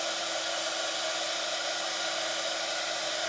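A heat tool blows steadily while warming embossing powder on a card, a constant airy whoosh like a hair dryer that stays unbroken throughout, with no talking.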